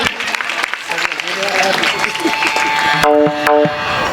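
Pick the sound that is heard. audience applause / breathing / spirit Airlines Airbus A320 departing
audience applause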